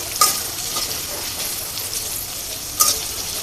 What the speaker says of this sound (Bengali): হালকা একটু পেঁয়াজটা ভাজবাম যাতে নরম হয়ে যায়।